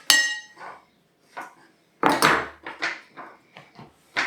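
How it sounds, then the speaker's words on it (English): A retro egg slicer presses through bananas with a run of short, close clicks and clinks of metal wires on the frame, irregularly spaced with gaps between, no talk. "I had this idea of using this retro egg slicer to do it"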